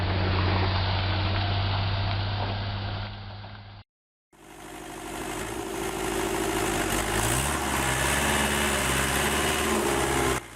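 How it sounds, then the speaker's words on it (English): A 39-ton MAN TGS 26480 truck with a German-built six-cylinder inline diesel engine rumbles steadily with a deep, continuous drone, briefly cut off before resuming with a low, shifting engine note. "the 39-ton MAN TGS 26480 truck, made in Germany with a 6-cylinder inline diesel engine"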